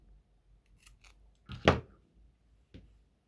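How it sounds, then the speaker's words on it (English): Scissors snip through yarn on a crocheted granny square, one loud close cut followed by a second smaller snip, with faint handling rustles before it in an otherwise quiet room. "Now you can just snip that one off."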